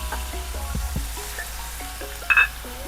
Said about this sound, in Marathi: थोडेसे ब्राऊन होईपर्यंत परतून घ्यावे.